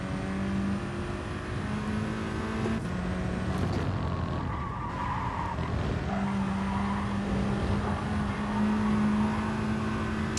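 A race car in Gran Turismo Sport drives continuously, its engine holding steady tones and stepping through gear shifts, with brief tire squeal through corners. It stays loud and close throughout, with no talking.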